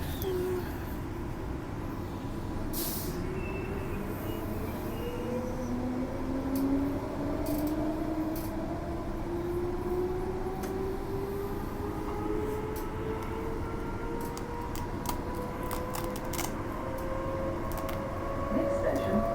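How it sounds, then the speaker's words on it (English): Thornlie Line commuter train pulling into a Perth suburban station, heard as a steady low rumble with rising and falling electric motor whine, plus a few faint clicks and knocks, constant and moderately loud with no one speaking. "Got another Thornlie Line coming in here."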